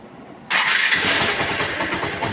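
A motorcycle engine starts abruptly after an oil change and oil seal replacement, catching on the first try and settling into a steady, loud idle close by with no one speaking.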